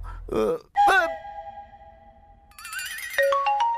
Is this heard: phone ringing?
yes